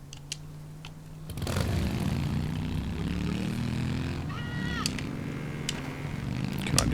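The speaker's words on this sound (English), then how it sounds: "And of course they have a chopper sitting here." Parked helicopter's engine in Mercenaries 2: World in Flames, a steady rotor-and-turbine drone that swells in after a quiet start and keeps running, with occasional sharp clicks and brief tonal chirps over it.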